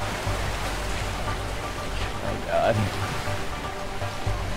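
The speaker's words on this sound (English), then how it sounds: "Is that a waterfall?" Rushing waterfall in the video game A Way Out, a loud, steady roar of churning water filling the scene while a player exclaims over it.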